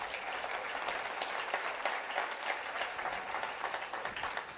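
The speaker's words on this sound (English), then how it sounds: "a round of applause to you guys" Steady, dense applause from an audience cheering couples and siblings building a business together, sustained and even throughout with no talk over it.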